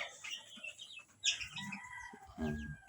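Month-old Rhode Island White cross White Leghorn chicks give scattered clucks and chirps, fairly close, with intermittent short calls over a quiet farm background.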